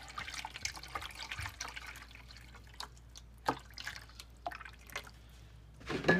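Water drips and trickles through a Zero Water filter pitcher in irregular, close, faint drops and short dribbles spread across a few seconds.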